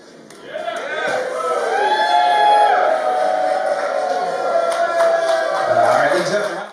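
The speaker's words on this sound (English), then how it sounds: "I love the applause, so I'll just wait till it dies down" Wedding guests applaud and whoop after a toast, a steady wash of clapping and crowd noise that swells, holds, then starts to fade.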